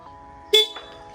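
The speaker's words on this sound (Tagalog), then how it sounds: "ito pala yung stock horn niya" Stock horn on a Yamaha NMAX V3 scooter gives one short, loud toot close by, with a faint fainter echo of the tone just after, and no talking.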